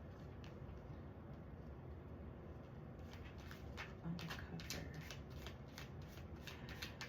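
Soft, quiet rustling of tarot cards being shuffled up close, with quick riffling bursts growing more distinct in the second half.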